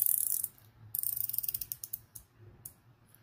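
Unidirectional bezel on an Aragon Matador A462 50mm watch turned in quick bursts of crisp, tight ratcheting clicks, close and fairly quiet, with short pauses between turns.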